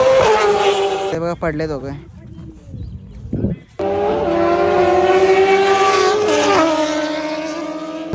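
A Maruti Swift car at a car rally event, its engine revving loudly and then dropping, with a brief lull in the middle and a voice speaking over the noise.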